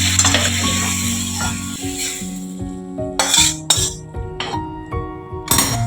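Vegetables for khichuri frying in a pan, a hissing sizzle that fades partway through while sharp metallic clinks and scrapes of a utensil strike the pan at irregular intervals, close up and without speech.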